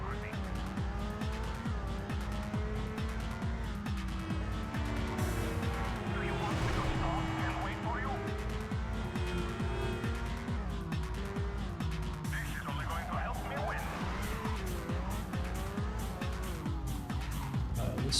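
A car in the Midnight Club 2 video game cruises on a freeway, its engine droning steadily and loud throughout with occasional tire squeal, alongside game music.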